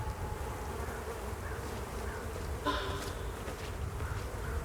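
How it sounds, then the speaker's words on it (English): Flies buzzing steadily in the video game Hell is Us, a constant close hum layered over an outdoor ambient bed, with a brief brighter swell midway and no voices. "Hear the buzzing of flies."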